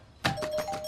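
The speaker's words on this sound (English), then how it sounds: "it has a buzzer on it like, hey, close the fridge, close me" The door-open alarm on an off-grid fridge sounds, a thin steady electronic beep or buzz after a short thump, close and moderately loud, lasting under a second.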